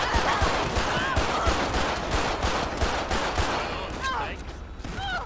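Rapid bursts of gunfire in GTA 5 fill the whole stretch, a dense, loud fusillade of overlapping shots during a police shootout, with brief pauses and a few whistling tones near the end.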